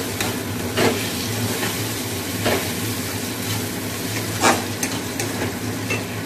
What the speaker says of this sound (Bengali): মশলাটা প্রথমে কষে নিই, আর পেঁয়াজ অনেক দিয়েছি